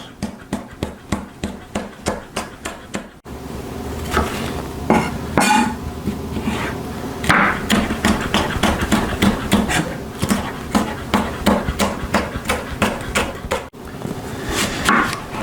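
A knife slicing a red bell pepper into strips on a cutting board, with a steady run of sharp, close chopping taps that come in bursts, alone without talk.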